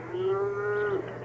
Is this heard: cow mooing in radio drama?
yes